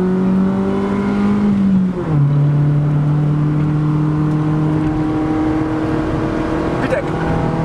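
Honda car engine revving hard with a rising, buzzy note. It dips briefly on a shift, then climbs again into VTEC, loud and close from inside the car, while a voice talks faintly at times.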